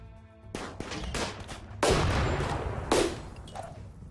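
Loud gunshots and blasts around a turret in the game Rimworld, three heavy cracks spaced about a second apart with smaller bursts between them over a noisy battle background.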